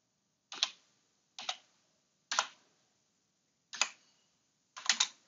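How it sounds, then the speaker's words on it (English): Keys on a computer keyboard clack in five short, separate bursts spaced about a second apart, crisp and close, each a quick cluster of taps with silence between. "typing"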